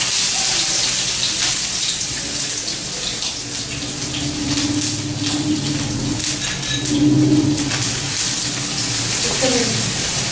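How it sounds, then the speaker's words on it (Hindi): Onions fry in hot oil in a wok with a steady, hissing sizzle that carries on evenly throughout, close and fairly loud. "हम प्याज को भून लेंगे।"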